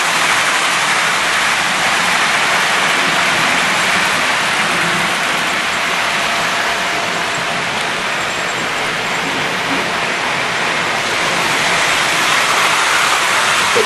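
A running Hornby model train gives a steady, loud wash of wheel noise, a dense hiss and rumble that stays constant from start to finish with no voices.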